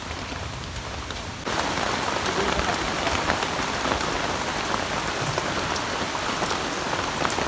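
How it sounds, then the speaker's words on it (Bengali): Heavy rain pours down in a village, beginning softer and then jumping to a loud, dense, steady hiss of drops pattering on surfaces, with no voices. "কি বৃষ্টি হইতেছে"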